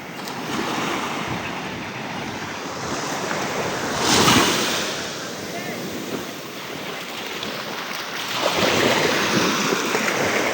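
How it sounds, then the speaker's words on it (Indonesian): Surf washes ashore on Virgin Beach in Karangasem, Bali, as small, gentle waves break in steady continuous hiss, swelling louder near four seconds and again near nine, with wind buffeting the microphone. "Dan di sini ombaknya nggak begitu besar ya."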